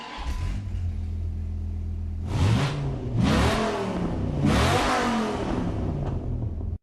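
A 2013 Viper GTS with its 8.4-litre V10 rumbles at idle, then revs hard in three loud, rising bursts that fall back to a deep burble between them. The engine is close and no one speaks.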